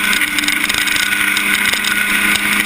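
A historic Formula Ford race car is held at full throttle while sliding around the Thruxton circuit, its engine note a loud, steady, high-pitched drone with no break.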